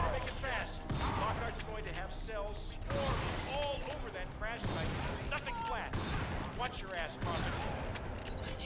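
Rapid gunfire from a video game rattles in dense bursts through the whole stretch, mixed with impacts and game effects while someone talks over it.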